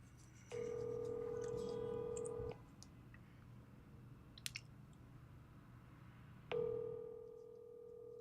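Two steady electronic ringback tones on a phone call, each lasting a couple of seconds with a long quiet gap between, faint over low background hum and a few small clicks.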